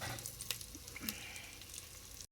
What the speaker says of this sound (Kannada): ಸೊ ಈಗ ಇದನ್ನು ಸ್ವಲ್ಪ ಫ್ರೈ ಮಾಡ್ಕೊಳ್ಳೋಣ.